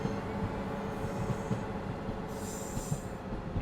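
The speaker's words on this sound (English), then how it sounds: "the Intercity Express is departing" An Intercity Express train departing in the Train Sim World 6 simulator game, a steady, fairly faint rolling rumble of wheels on rails with a high whine drifting in and out.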